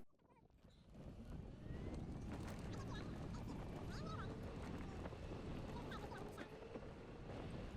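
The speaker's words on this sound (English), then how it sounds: "You can hear the wind blowing a little bit." Wind blows across an executive golf course in The Villages, Florida, as a steady, fairly loud broadband rush buffeting the microphone that rises after the first second and holds with little variation.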